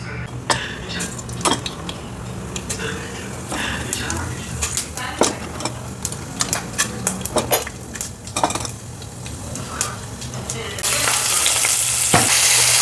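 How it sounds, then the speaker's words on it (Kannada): A small tempering of spices sizzles in a pan, frying steadily under repeated sharp clinks and scrapes of a spoon against the pan. A voice talks briefly, and the sizzle swells louder near the end. "ಈಗ ಇದೊಂದು ಸ್ಮಾಲ್ ಒಗ್ಗರಣೆ ಹಾಕೋಣ"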